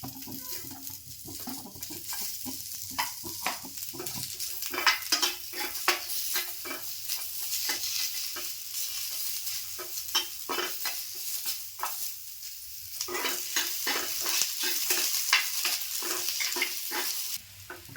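Onion fries in a pan with roasted coconut and garam masala for spicy misal, giving a soft continuous sizzle broken by repeated scraping stirs of a spoon against the pan, close and moderately quiet.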